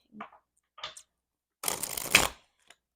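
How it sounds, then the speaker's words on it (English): Tarot cards being shuffled by hand: a few soft, short riffles, then one longer, louder burst of rapid card flutter near the mic in an otherwise quiet room. "the cards are being a little crazy, so I want to shuffle real quick"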